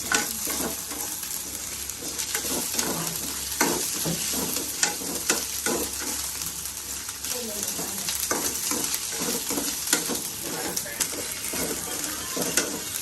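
Ginger garlic paste sizzles and fries in a pan for a mutton gravy, with a steady crackle throughout and repeated scraping stirs, while a voice talks intermittently over the cooking.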